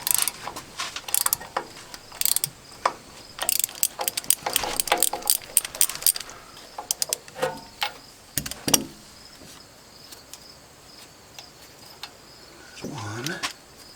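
Ratchet wrench clicking in bursts while turning bolts on an old junkyard camper under restoration, close and fairly loud, with brief pauses, scattered clanks and a short voice near the end.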